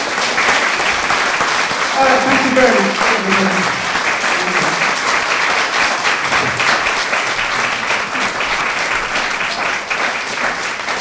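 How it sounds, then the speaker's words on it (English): Sustained audience applause at a live comedy or poetry performance, dense and steady throughout, with someone briefly speaking over the clapping. "You're supposed to clap."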